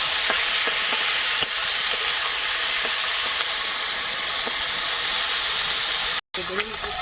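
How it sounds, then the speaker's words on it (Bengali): Peas and tomatoes fry in a pan with panch phoron for a winter mixed-vegetable dish, a steady close sizzle with soft stirring clicks throughout and a brief drop near the end. "মটরশুঁটি দেবো টমেটো সব দিয়ে ভেজে নেবো"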